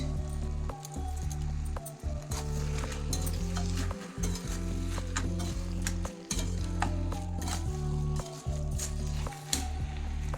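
Fish head and bottle gourd sizzle loudly in a pan with sugar and a little water, a dense steady frying hiss broken by clinking stirs and a few brief pauses, with no voices.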